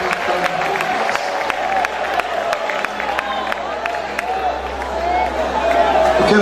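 A church congregation in Fortaleza claps and cheers together, a busy crowd din with rhythmic clapping and voices mixed in, steady and fairly loud.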